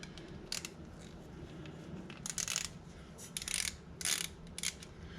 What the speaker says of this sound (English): I'm going to loosen these stay cons up first.